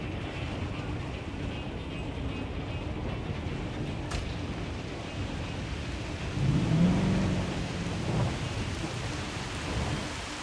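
A thunderstorm in a Jurassic World setting brings a steady heavy downpour hissing throughout, with a low thunder rumble swelling midway before settling back into the rain.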